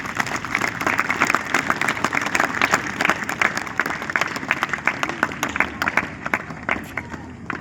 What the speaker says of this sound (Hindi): आप उनके लिए भी जोरदार तालियां बजाएं।